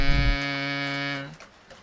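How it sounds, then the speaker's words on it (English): A kazoo sounded by plain humming gives one buzzy sustained tone of a little over a second, then fades into quiet room noise. "Now kazoo is an instrument which makes sound when you hum on it."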